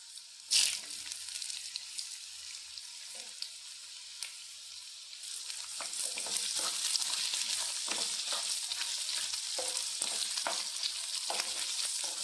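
Carrots drop into hot oil in a pan for carrot mango pickle with a loud initial splash, then a steady close sizzle broken by scraping stirs and light clinks, no voices.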